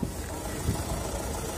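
A black 2011 Chevrolet Lacetti with a 1.8 engine idles at a used-car market, a low steady rumble holding even and unbroken, faint and close with no talk over it.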